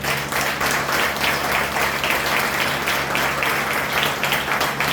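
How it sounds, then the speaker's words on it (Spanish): A church congregation applauds loudly and continuously during a sermon, a thick wash of clapping filling the room at steady strength throughout. "Si le van a dar el aplauso, dáselo fuerte."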